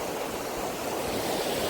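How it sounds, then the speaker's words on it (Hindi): Water flows through a rice paddy field during transplanting season in Chhattisgarh. It makes a soft, steady rushing wash with no voices over it. "पूरा पानी बह गए हो"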